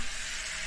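Tomatoes hit hot oil already cooking with onion and curry leaves, giving a brief, steady, hissing sizzle close up.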